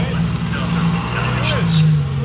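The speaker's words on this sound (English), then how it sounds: "Ferrari Aperta pulling through." A Ferrari Aperta sports car pulls through, its engine tone rising and holding briefly at moderate distance beneath a person talking over it.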